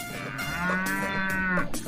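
A cow gives a single drawn-out moo at close range, loud and clear over quiet outdoor background.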